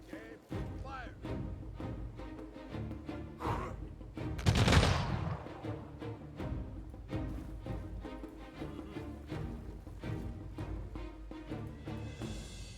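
Gunfire from units in the strategy game Humankind, with scattered shots and one loud volley bursting out midway, mixed with background music and faint battle noise.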